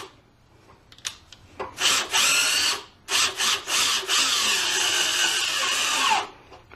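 A screw gun with a socket driver drives self-tapping screws into predrilled holes while fitting a hybrid cell into a vehicle, giving loud close whirring bursts that start, stop briefly, then run in one long drive.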